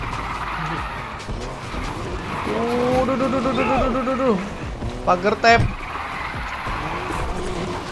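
A car in the video game Need for Speed, fitted with new drift tires, drifts on the handbrake with a long squealing skid and a shorter wavering squeal over engine noise while someone talks throughout.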